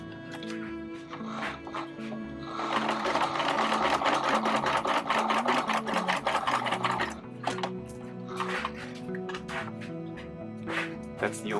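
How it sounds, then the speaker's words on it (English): Sewing machine stitching across the bottom end of a trouser fly facing, right sides together, for Basquiat trousers, running in steady rapid bursts with short pauses, close and fairly loud, with quiet talk in the background. "fold it, right sides together, and you want to sew on the bottom end right there."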